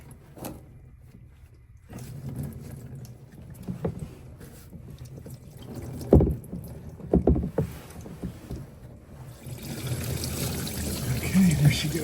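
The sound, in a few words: coolant draining from a 1985 Chevy Caprice radiator hose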